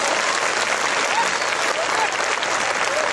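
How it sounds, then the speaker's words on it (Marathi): Women in a gathering give sustained, loud applause honoring Babasaheb Ambedkar, a dense wash of many hands clapping steadily throughout. "बाबासाहेब आंबेडकरांसाठी एकदा जोरदार टाळ्या वाजवा."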